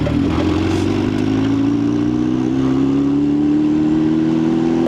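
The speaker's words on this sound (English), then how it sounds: "that means we got to go for a test drive" Car with a 2.0L Ecotec LNF/LDK engine and a newly installed fuel pump on a test drive through a neighborhood, its engine droning loud and steady from inside the cabin, pitch slowly rising as it accelerates.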